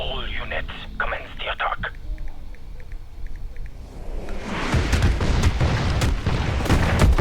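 Heavy bombardment explosions in Call of Duty Modern Warfare Remastered build into a sustained, loud barrage of booms and rumbling blasts, following a quieter stretch of radio chatter and game sounds.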